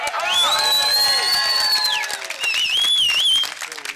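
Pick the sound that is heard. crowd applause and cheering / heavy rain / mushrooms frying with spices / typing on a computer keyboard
crowd applause and cheering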